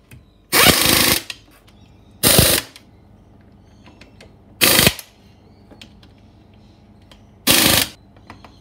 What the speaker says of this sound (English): Spec specially calibrated 3/8 rattle gun.